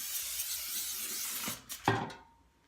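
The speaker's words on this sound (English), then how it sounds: "I have some canola cooking spray, and I'm just going to give this a quick spray" Canola cooking spray hisses onto a roasting pan in a kitchen, a steady spray lasting about a second and a half, followed by a couple of short metallic knocks as the can or pan is handled.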